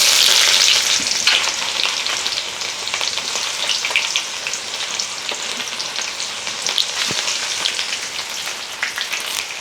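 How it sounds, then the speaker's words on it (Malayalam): Mustard seeds frying in hot oil to temper a curry make a loud, dense, close sizzle with scattered crackles and pops that runs steadily throughout, no voices over it. "ഇനി കടുകും കൂടെ വറുത്ത് ചേർക്കാം."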